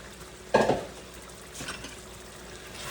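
Spaghetti dumped into a stir-fry pan while making sweet-and-sour chicken: one sharp, close splash-and-sizzle burst, then a fainter, shorter scrape of stirring a second later.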